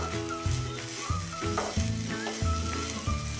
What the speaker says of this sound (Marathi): आता हे सतत हलवून आपण सारण चांगलं तयार करून घ्यायचं आहे.